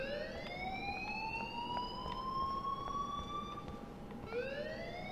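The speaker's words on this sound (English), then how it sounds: "please turn off that alarm since that's your job." A wailing electronic alarm rings in the video game Life is Strange, its rising tone gliding upward, cutting out briefly near the end, then starting again, loud and steady over low background hum.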